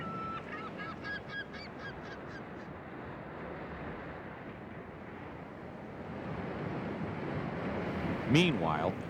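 Tundra swans, formerly called whistling swans, calling at their winter home in protected coastal wetlands, with faint honking notes early on, a steady wash of wind or surf, and a nearer call near the end.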